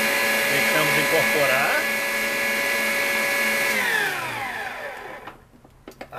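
An electric stand mixer beats butter cake batter with a steady, loud motor whine. The whine winds down and stops near the end, and a person speaks briefly.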